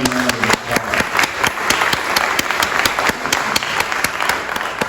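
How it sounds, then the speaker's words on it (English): A town hall audience at a housing meeting breaks into warm applause, crisp close claps ringing out in a dense, steady rhythm for several seconds. "Please give them all a warm round of applause."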